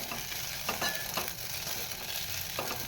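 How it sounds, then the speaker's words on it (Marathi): Sago pearls are sautéed in ghee for kheer, giving a gentle continuous sizzle with a few soft scraping stirs of the spoon against the pan. It is close but low in level, and no one talks. "तुपावरती परतवून घेतला"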